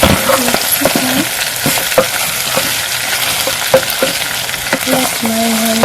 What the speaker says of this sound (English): Let my onions fry.